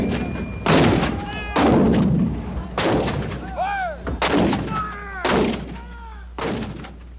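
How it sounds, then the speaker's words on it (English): Civil War field artillery cannons fire a series of about six heavy booms at steady intervals, each one loud and close with a rolling decay. "over 130 pieces of field artillery open up"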